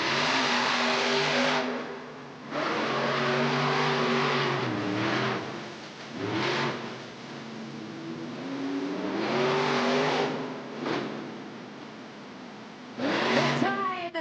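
The El Toro Loco monster truck revs at the start of a Monster Jam arena race in Baltimore, its engine loud and near, surging and dropping in repeated bursts before a final sharp climb.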